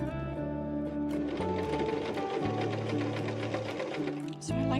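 A sewing machine top stitches a scrap-fabric placemat, running in a steady mechanical whir with rhythmic needle clatter. It pauses and restarts a few times, close and fairly quiet, with no talk.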